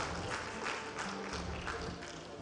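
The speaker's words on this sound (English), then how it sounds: "please, once again, give them a round of applause" A crowd applauding at a university event, a dense, continuous wash of clapping that fills the whole moment at moderate, distant volume.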